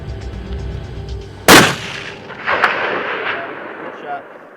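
Single loud rifle shot fired at a mule deer during a long-range public-land hunt, a sharp close crack followed by a rolling echo that fades over a few seconds.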